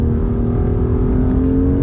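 A BMW M2 CS engine pulls steadily under light throttle on the Castellet race track, a loud, close, continuous drone with a constant low growl and no break.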